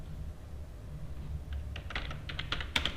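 Keys clatter on a computer keyboard as someone types Java code. A low room hum comes first, then bursts of quick, close, uneven taps that get busier toward the end.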